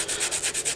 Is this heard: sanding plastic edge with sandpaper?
yes